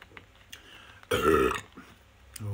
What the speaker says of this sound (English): Oh, a bit of a poor burp